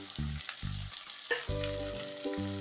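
Onions dropped into hot oil with popped mustard seeds, a South Indian tempering for sambar paniyaram, sizzle up close, with several strong bursts of frying as pieces hit the pan and are stirred, no talking.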